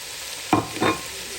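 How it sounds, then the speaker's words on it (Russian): Onion and carrot frying in a pan as they are stirred, with a steady sizzle underneath and two brief scraping strokes close by, no talk. "Чуть вот так вот прижаривается лучок"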